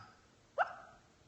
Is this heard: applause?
no